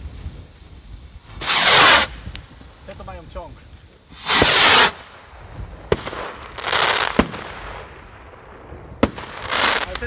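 Several firework rockets launch in succession at New Year's Eve, each a loud rushing hiss lasting about a second, with sharp cracks and voices between them.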